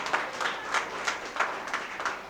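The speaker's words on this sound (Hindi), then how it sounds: "कृपया रिकॉर्डिंग रोक करके तालियां दोनों हाथ खोल के मस्ती से" Rhythmic unison clapping from a college audience at a Hindi poetry gathering, regular beats about three per second, moderately distant and fairly soft, with no talk.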